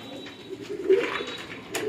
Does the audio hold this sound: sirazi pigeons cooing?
yes